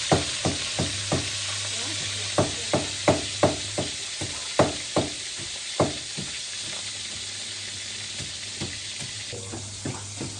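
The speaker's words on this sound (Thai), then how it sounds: "ทอดปลาเนาะ" Fish fries in a pan for a home-cooked lunch after rice transplanting, a faint, steady sizzle broken by a series of sharp knocks and clicks from stirring and turning, with no talk.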